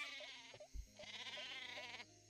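The sheep weapon in the video game Worms Reloaded gives a clear, close cartoon bleat, a wavering baa repeated over about two seconds with a soft thud partway through.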